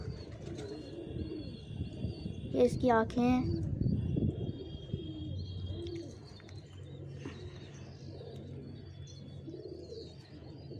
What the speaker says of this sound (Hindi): अब मैं आपको कबूतरों के जोड़े दिखाता हूँ।